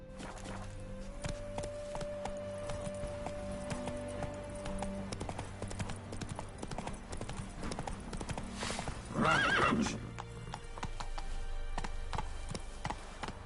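Roach the horse in The Witcher 3 clip-clops along at a steady trot, then lets out a loud, close whinny partway through before the hooves resume; game music and ambience play underneath.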